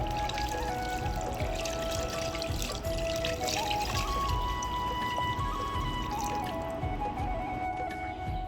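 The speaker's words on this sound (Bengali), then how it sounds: "পানি দিয়ে দিব।" Water poured into a cooking pot while making khichuri, a steady pouring and trickling sound that runs continuously at close range, with no talk over it.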